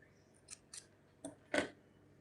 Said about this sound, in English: now if you want, you can just cut this yarn